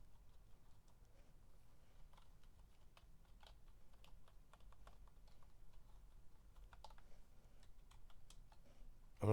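Quiet, irregular clacking of fingers typing on a computer keyboard while playing Garfield: Big Fat Hairy Deal on a ZX Spectrum, a continuous patter of key presses with no talk.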